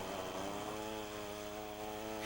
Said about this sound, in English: It takes special chainsaws with really long blades to cut into the frozen pond.